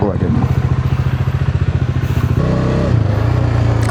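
A motorcycle engine runs close by, its rapid pulsing putter loud and steady at first, then rising in pitch and roughening as it is revved before settling back, with a voice briefly heard near the start.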